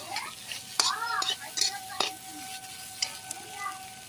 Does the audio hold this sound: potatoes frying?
yes